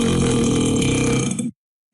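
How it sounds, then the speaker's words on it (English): A single loud, drawn-out burp lasting about a second and a half, close and deep-toned, ending abruptly into silence. "was that you just burped?"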